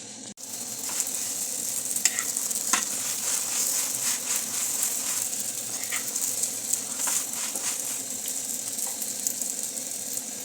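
Chapati frying in soybean oil on a pan, with a steady hiss and sizzle and scattered crackles and pops throughout.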